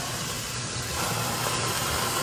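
Steam hisses steadily from a waffle maker cooking egg and bacon, a constant broadband rush at moderate level throughout with no voices.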